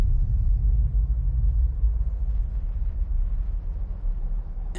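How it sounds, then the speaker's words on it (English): A deep rumbling explosion from the opening of the video game Death Stranding rolls on as a heavy, sustained low roar that slowly thins out, loud and alone with no talking. "And then came the next explosion."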